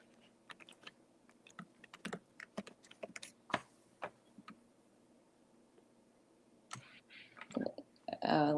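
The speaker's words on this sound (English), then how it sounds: "I think I hear you typing" Irregular clicks of typing on a computer keyboard, close and fairly quiet, with pauses between bursts and a louder clatter near the end.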